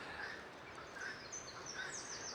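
Faint chicken calls sound in the distance over a steady outdoor hiss, a few short cries spaced irregularly.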